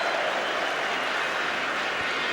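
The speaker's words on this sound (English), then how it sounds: "there's a cheer from the West Ham fans for Alan Devonshire" Crowd cheering from West Ham fans at the 1980 FA Cup Final against Arsenal, a steady, dense stadium roar that holds at an even level from start to finish.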